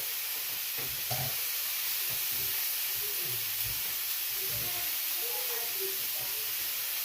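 Tuna steak, one of two small portions, sizzling in a hot pan, a steady broad hiss with faint crackles and low bubbling throughout, fairly close and continuous with no talking.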